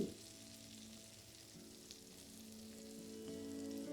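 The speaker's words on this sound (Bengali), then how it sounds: "আর রসুনটা দেওয়ার পরে লো ফ্লেমে এটাকে ভালো করে আপনারা ভেজে নিন।" Chopped garlic frying in butter and oil over a low flame, a faint, steady, close sizzle that swells slightly toward the end.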